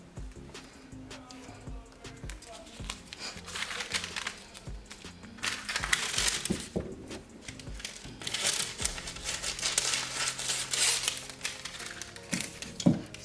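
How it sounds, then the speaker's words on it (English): Adhesive vinyl with transfer tape on top having its backing peeled off, giving faint, close crinkling and tearing rustles that come in irregular bursts throughout. "Run it over a couple times. And you should be able to peel off the backing."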